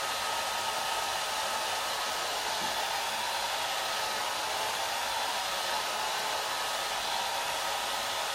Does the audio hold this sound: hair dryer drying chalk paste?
yes